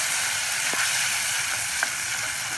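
Steady, bright sizzle of masala spices frying in a pan for Mumbai-style usal, continuous and close, with a couple of faint clicks of a utensil.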